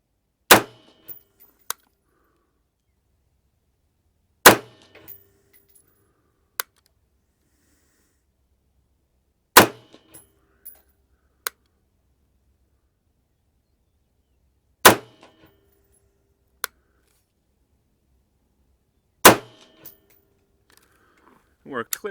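Five rifle shots fired with IMI M193 ammunition, each a sharp loud crack standing alone at evenly spaced intervals about five seconds apart, with faint handling clicks between them.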